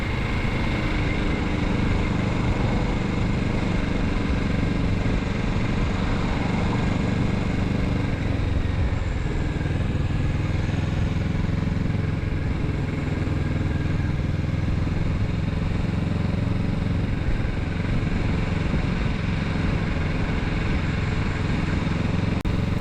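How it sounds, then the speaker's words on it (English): A 2024 Kawasaki Z650RS rolls slowly through downtown Carson City, its engine a steady low rumble with some clatter, heard close for over twenty seconds alongside constant wind and road noise. "The Z650RS doesn't mind this slow-speed city riding."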